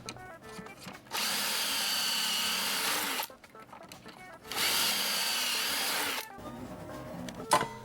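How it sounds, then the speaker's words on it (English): A power drill bores angled pocket holes through a wood cabinet frame held in a jig, giving two sustained loud whirring runs of about two and three seconds, separated by a brief pause and followed by lighter handling noise. "This jig drills a hole at a near horizontal angle, and glue and screws are used to install to make this frame solid."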